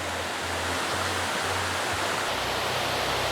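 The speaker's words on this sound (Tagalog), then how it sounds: "Medyo mahina siguro yung tubig galing sa taas." Water pours steadily down a waterfall carrying less flow than in past years, a dense, continuous broadband roar filling the scene alone with no voices.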